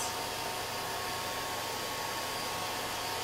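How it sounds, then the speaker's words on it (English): A hair dryer blows steadily, a constant loud airy whoosh with no pauses and no voices. "I'm just going to take a hair dryer to this"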